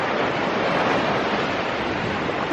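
Waves wash onto a black-sand beach in Lombok with clear water and dead coral on the shore, a continuous loud surf roar mixed with some wind noise and no talking.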